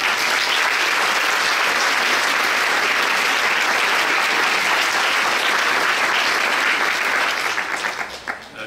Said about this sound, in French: je pense que ça mérite une belle main d'applaudissement